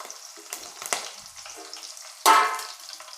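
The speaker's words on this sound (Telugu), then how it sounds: "ఇంకా ఫిష్ కర్రీ నూనె వేడెక్కిన తర్వాత కరివేపాకు అయితే వేసుకోవాలి." Curry leaves drop into hot oil for a village-style fish curry, giving quiet crackling sizzles that swell into a sudden loud burst of spitting frying near the end, with no voices.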